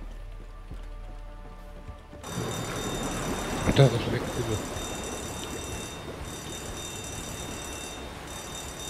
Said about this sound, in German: Da geht der Alarm wieder los.